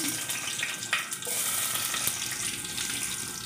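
Chopped onion frying in a pan alongside chayote, giving a steady, close, dense sizzle with a faint watery hiss that runs unbroken for the whole stretch, with no talking.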